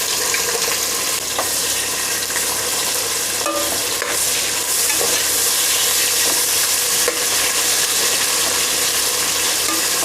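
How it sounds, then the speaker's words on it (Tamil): Onions frying in hot oil with green chillies and spices for a vegetable biryani, a loud, dense, continuous sizzle and crackle with occasional stirring clicks, no talking. "நம்ம வந்து இப்போது வெங்காயம் சேர்க்கலாம்."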